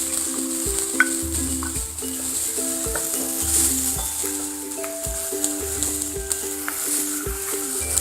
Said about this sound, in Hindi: मसाले को 15 सेकंड भून लेंगे